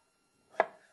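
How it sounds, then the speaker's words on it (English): A single knife chop through a fresh strawberry on a cutting board while halving berries for a chocolate dessert: one crisp, close thunk after a moment of silence, then a brief soft tail. "It doesn't have to be very small, these strawberries. I think cutting them in half is going to be just fine."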